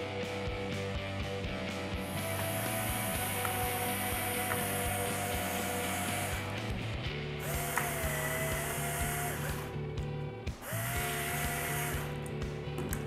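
Screws driven in while assembling a clean room enclosure, heard as repeated mechanical whirring and ratcheting in several bursts with high whining tones, close and steady, no voices.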